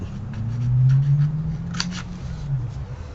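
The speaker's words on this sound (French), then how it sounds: "Enfin bon, on va couper." Scissors cut through material in a few short snips, close and fairly quiet over a low background hum.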